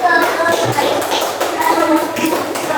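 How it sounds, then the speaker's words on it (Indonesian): Students in a madrasah classroom clap briefly and unevenly for a small group of classmates, close and fairly loud, with scattered taps and faint voices. "Tepuk tangan buat kelompok 4."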